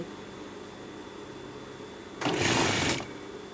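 A sewing machine runs in one short, steady burst while stitching along a large, slightly curved trouser waistband during a waist alteration, standing out clearly against a quiet background.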